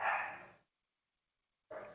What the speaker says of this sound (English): Sorry if you can hear my dog barking.